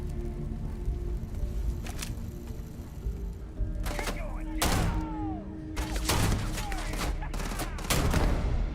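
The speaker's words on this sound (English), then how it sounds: "Now I can pull out my baby shotgun again." A shotgun fires in the space game Starfield, with several loud, sharp blasts at irregular intervals that grow denser toward the end, over a steady bed of game noise while someone talks.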